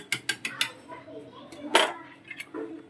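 A spoon clinks and scrapes against a pot as warm milk is stirred little by little into a homemade ice cream mixture. The quiet metallic taps come in an uneven series with short gaps between them.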